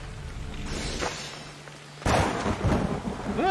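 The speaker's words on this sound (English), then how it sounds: "We got a storm coming in too." Thunderstorm in Assassin's Creed Odyssey: a sudden loud thunderclap cracks midway and rumbles on over a bed of falling rain and ambient wind.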